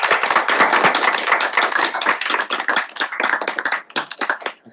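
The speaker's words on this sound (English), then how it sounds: "Please give them a very round of applause." An audience at a student senate meeting applauds with dense, loud, close clapping that runs continuously, then thins out toward the end.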